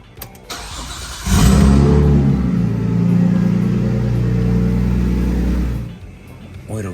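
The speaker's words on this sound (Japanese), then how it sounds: "これを閉めてまたエンジンをかけることです。" A Nissan Skyline's engine cranks and fires after an oil change, then settles into a loud, steady idle with a low rumble before cutting off near the end.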